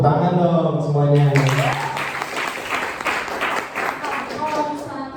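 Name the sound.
audience applause at a seminar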